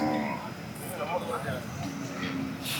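Cattle, including bulls, low and moo at a Saturday morning livestock market near Kannapuram, with Kangeyam breed animals, their calls mixing with nearby talk and crowd bustle.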